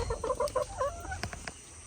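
Chickens on a village farm cluck in a quick series of short, close calls for about a second, then fall quiet with faint background noise and no talking.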